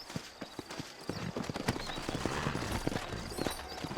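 Steady clip-clop of horse hooves on hard ground in Red Dead Redemption, a brisk rhythmic gait with occasional sharper knocks, fairly close and continuous.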